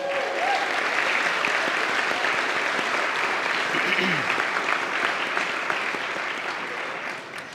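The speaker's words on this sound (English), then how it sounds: "We can clap again because they're worth it." Steady applause at a gala dinner for the kitchen volunteers, a roomful of hands clapping evenly for several seconds, gradually tapering off, with faint voices beneath.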